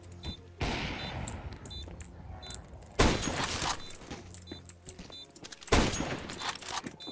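Bursts of gunfire in the video game Counter-Strike: Global Offensive, three loud volleys of rapid shots with short lulls between them, with no talking.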